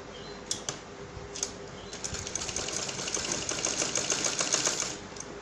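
Sewing machine stitching piping onto a kameez neckline: a quiet, rapid mechanical whir of stitching with a few sharp clicks at the start, building into a continuous run near the end.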